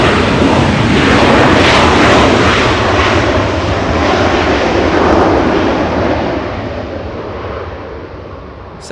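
A jet airliner roars loudly down runway 24 left at Los Angeles International Airport on takeoff, a broad sustained engine rumble that slowly fades as it climbs away.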